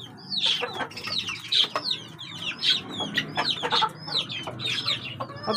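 Several chickens, a black rooster among them, clucking close by in repeated short bursts with brief squawks, forming a busy, uneven chatter over faint background noise.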